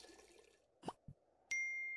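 Toilet use in the video game Streamer Life Simulator: a soft plop and a short low knock, then a steady bright ringing tone that holds to the end, all fairly quiet with no talking.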